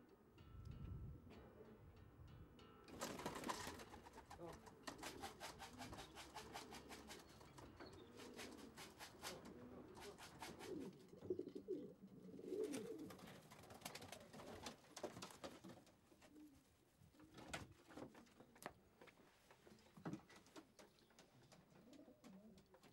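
Racing pigeons at a loft in Ballyfermot cooing softly and flapping their wings as they fly overhead, in faint bursts of wingbeats with low coos.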